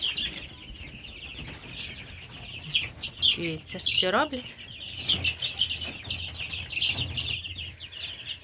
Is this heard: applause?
no